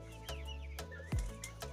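Layer chickens at a small poultry setup give soft, faint clucks and brief calls, a few scattered sounds over a quiet background.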